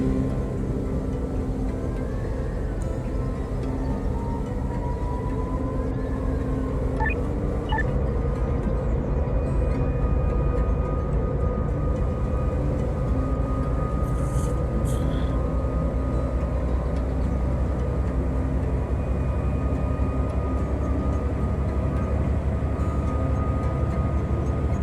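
A train in the game Train Life rumbles continuously for the whole span, a steady low mechanical drone with faint high squeals and a couple of brief clicks, no talking.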